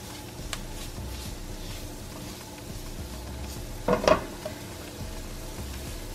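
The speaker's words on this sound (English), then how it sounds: "also put the flour just to melt up in the oil, and then you put the onion" Flour and onions frying in oil in a pot for a Vincy fish gravy, giving a soft, steady sizzle close by, with a brief louder scrape or stir partway through.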